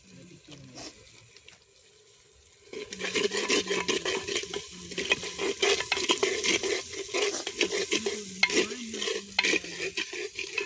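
Chicken curry spices with Kashmiri chili powder fry and get stirred in a pan, a loud sizzle kicking in after a quieter start, with steady scraping strokes throughout.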